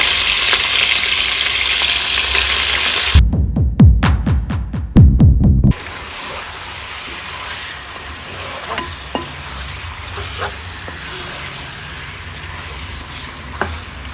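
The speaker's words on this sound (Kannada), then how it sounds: "ತೊಳೆದು ಇಟ್ಕೊಂಡ ಚಿಕನನ್ನು ಸೇರಿಸ್ಕೊಂಡು ಫ್ರೈ ಮಾಡ್ಕೊಳ್ಳೋಣ." Chicken frying in a pan with cardamom, cloves and cinnamon for a green chicken hariyali curry, a steady close sizzle with a few stirring scrapes partway through, no talking.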